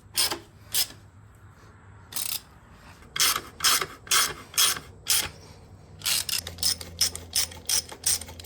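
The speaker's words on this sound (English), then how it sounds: "So, get these motor mounts bolted up." Short, sharp bursts of ratchet clicking repeat close by while dirt bike motor mounts are bolted up, first in separate pulls, then a quicker run of strokes near the end.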